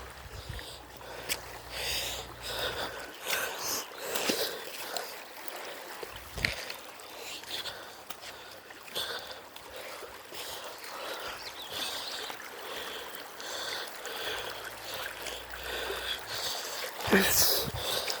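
Cold mountain river in summer flowing over rocks and algae, a continuous rushing and trickling of water up close, with occasional splashes and soft bumps, no voices.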